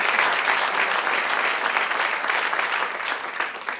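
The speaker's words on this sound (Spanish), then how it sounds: "Denle un aplauso al Señor." Worshippers in a church service clap together in a broad, sustained round of applause, many hands blending into a steady roar that thins slightly near the end.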